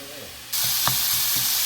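Finely ground hamburger meat browns in a hot pan for tacos, a sudden loud steady sizzle breaking out with a few soft scraping stirs underneath.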